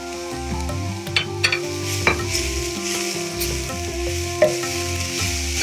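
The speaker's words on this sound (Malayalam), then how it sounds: "ഇതിലേക്ക് ഞാൻ കെയിൽ അരിഞ്ഞത് ആഡ് ചെയ്യുകയാണ്." Chopped kale and cabbage stir-frying in a pan for Kerala-style thoran, with a steady sizzle under repeated scraping and stirring strokes and occasional sharp utensil clinks, close and fairly loud.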